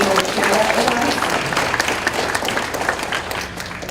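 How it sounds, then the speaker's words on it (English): A school audience during a teacher talk event gives a speaker another round of applause, loud sustained clapping from a crowd that tapers slightly toward the end, with faint voices mixed in. "Can we give her another applause for being able to share that with us?"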